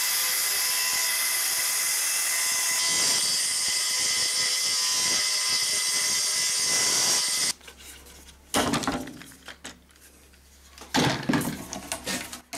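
A circular saw running on rails cuts hard oak in a loud, steady, whining roar for several seconds, then stops, leaving quieter handling knocks and the motor spinning up briefly again.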